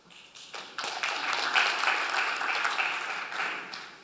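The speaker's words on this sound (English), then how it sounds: "could you please applaud and make some noise?" A keynote audience claps and cheers on request, the applause swelling in after a quiet start, staying dense and loud, then easing slightly toward the end.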